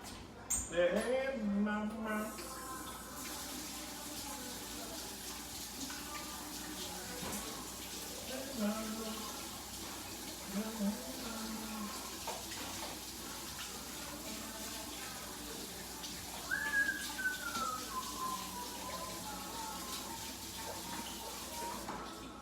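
A kitchen tap runs steadily as hands are washed, a soft, constant water rush beneath a person talking throughout.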